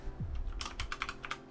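Quick, light clicks come from a mechanical keyboard with pink and blue keycaps, about eight keystrokes in a short, close-up burst at low volume.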